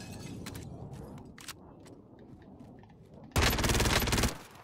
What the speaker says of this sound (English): I keep shooting at him, going after him.